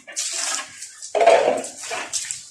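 Water splashes and sprays against the walls of a pig pen during cleaning, irregular bursts of hissing spray and splatter, fairly close, with no talk.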